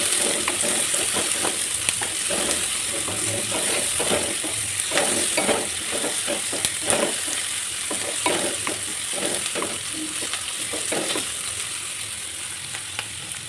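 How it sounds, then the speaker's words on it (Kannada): Dried red chilies and onion frying in a pan for a traditional dish, a steady close sizzle with repeated scraping stir strokes throughout, no talking. "ಒಣಮೆಣಸಿನಕಾಯಿ, ಈರುಳ್ಳಿ ಕಂದು ಬಣ್ಣ ಬರೋ ತನಕ ನೀಟಾಗಿ ಬೇಯಿಸ್ಕೊಳ್ಳಿ."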